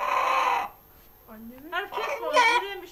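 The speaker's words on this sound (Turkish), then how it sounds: "Bu horoz adeta anne diye haykırdı." A rooster in the Ortahisar district of Trabzon, spared from slaughter, lets out loud, strained crows that sound like a human shout, in short rising bursts separated by brief gaps.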